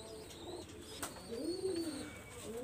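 Pigeons of a Pakistani high-flyer breed coo in a soft, low, wavering call that rises and falls near the middle, with faint chirps and a light background hum around it.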